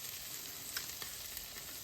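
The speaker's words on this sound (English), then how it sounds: "Let me just keep the meat warm for a little bit. I've got it in the frying pan here." Birria meat and broth warming in a frying pan, giving a steady, gentle sizzle close up with faint crackles and no voices.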